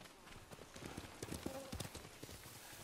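A horse in Ghost of Tsushima sets off a quiet series of uneven clip-clop hoof strikes that come closer, mixed with soft game ambience and a faint voice.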